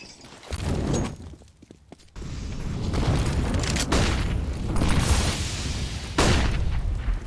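Grenade explosions and utility bursts in a CS:GO match on the Inferno map, heavy booming blasts that fill the mix almost continuously, with a brief quieter gap before the detonations resume loud and dense.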